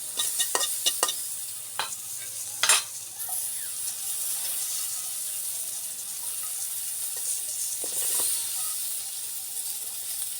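Onion, garlic and green chilli frying in a pan, a bright continuous sizzle with a cluster of sharp spatula clicks and scrapes early on and a few more later, close and moderately loud.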